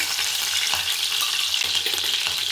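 Chopped green chilies frying in hot oil, a dense continuous sizzle up close with faint stirring taps underneath.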